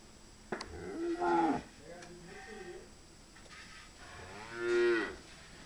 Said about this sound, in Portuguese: vacas.